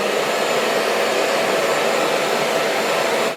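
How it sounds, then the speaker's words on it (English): A blow dryer roars steadily at close range as it is aimed at the hair roots, a loud continuous whooshing hum that cuts off abruptly at the very end. "then you take your blow dryer and shoot it at the roots"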